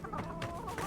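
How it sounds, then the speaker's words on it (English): A chicken clucks in the fantasy video game Avowed, quick clucking bursts over a steady, dense ambient game backdrop, with no talk. "Chicken!"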